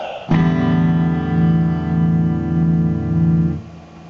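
A clean electric guitar chord sounds and sustains evenly with a slight wavering shimmer, then fades out.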